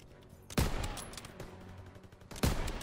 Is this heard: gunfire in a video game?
yes